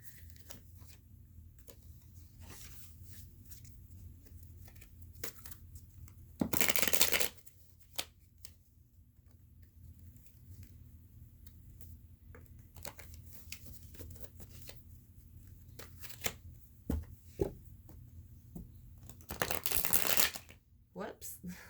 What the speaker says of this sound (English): I'm going to shuffle and cut this deck again.